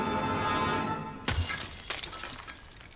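A glass ballerina figurine shatters in a scene from the TV series LOST, a sharp sudden crash followed by scattered tinkling fragments settling over a steady background hum.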